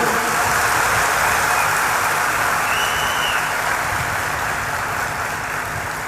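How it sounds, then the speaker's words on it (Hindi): Audience at a live event clapping together, a dense, steady wash of applause that holds for the whole stretch, fairly loud and continuous with no clear gaps. "एक बार ताली बजाओ झूम के।"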